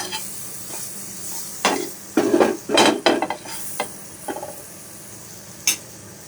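Food cooks in butter on a tawa with a steady sizzle, broken by bursts of spatula scraping and stirring plus a few sharp metallic taps, close by.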